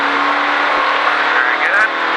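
A race car on a track during a Richard Petty Driving Experience session at Disney, engine roaring steadily at high revs throughout, loud and close, with a driving instructor's voice over it.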